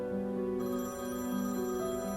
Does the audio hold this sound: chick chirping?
no